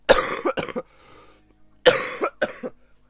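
Two separate bursts of coughing, each a quick cluster of harsh hacks, close to the microphone with a quiet pause between them.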